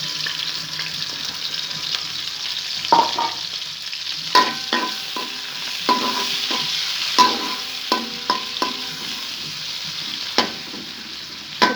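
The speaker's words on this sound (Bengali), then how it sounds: "পেঁয়াজ কাঁচামরিচটা ভাজা ভাজা হয়ে যাচ্ছে" Onions, green chillies and Bombay chillies frying in soybean oil for rice biryani, giving a steady, moderate sizzle punctuated by regular clinks and scrapes of a spatula against the pan, with no voice.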